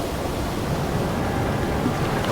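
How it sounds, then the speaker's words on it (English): Rapids on a Mongolian river rush as a dense, steady roar of churning water, close and continuous, with no voices. "The calm waters give way to rapids without warning."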